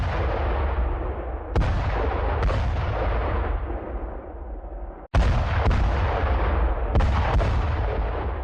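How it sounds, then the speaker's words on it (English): Gunfire and artillery in a WWII tank battle with Panzer Grenadiers attacking a US column, a dense continuous roar of heavy blasts and rumbling with several sharp cracks standing out, loud and close. "Small arms fire raked the length of the column as Panzer Grenadiers attacked."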